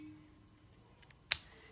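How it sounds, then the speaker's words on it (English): A single crisp snip of sewing scissors clips the corner of a fabric seam allowance, short and close in an otherwise quiet room. A couple of faint small taps come just before it. "clip the corners without cutting into your seam and just take the tip off"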